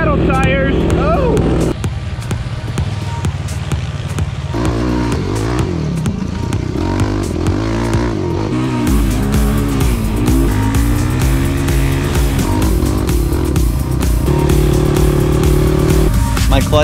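A quad ATV fitted with paddle tires rides on a paved road, its engine loud and close with rising and falling revs and a droning whine; a voice calls out over it.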